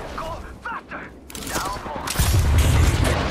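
Gunfire and explosive booms in the video game Apex Legends, a muffled burst of shots building into a louder sustained rumble, with players talking over it.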